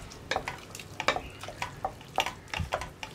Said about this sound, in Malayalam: തൈര് ചേർത്ത് കൊടുക്കുമ്പോൾ നന്നായിട്ട് ഇളക്കി കൊടുക്കുക.